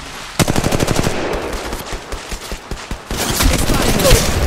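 Automatic weapon fire in the mobile shooter Apex Legends, played on a 2021 iPad: a rapid burst of loud, close shots, then scattered single shots and a denser volley.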